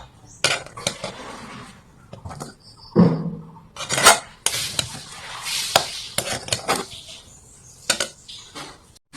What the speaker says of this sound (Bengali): এখন গাইস একটা প্লেট নিয়েছি, প্লেটের মধ্যে আমি ডোটাই সুজিটা নামিয়ে নেব।